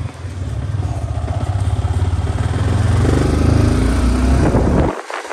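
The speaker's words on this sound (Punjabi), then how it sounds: "ਮੋਟਰਸਾਈਕਲ ਆਪਾਂ ਕੱਢ ਲਈ ਆ ਚਲੋ ਬਸ ਹੁਣ ਚੱਲੀਏ" A Yamaha motorcycle engine runs loud and close with a steady rhythmic drone while riding, then cuts off abruptly near the end.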